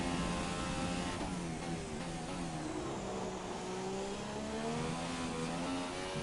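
An F1 car in the F1 2017 racing game, its high-pitched engine screaming steadily at high revs with shifting pitch and some tire noise, loud and continuous with no talking.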